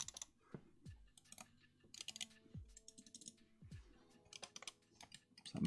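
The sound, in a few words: Ninjutso Sora gaming mouse clicking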